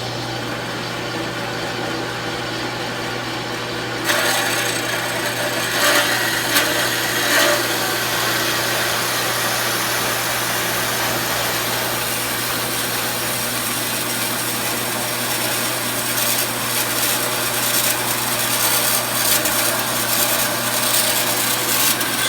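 An Ellis horizontal bandsaw cutting metal, starting abruptly a few seconds in and then holding a steady, loud rasping grind with no one speaking.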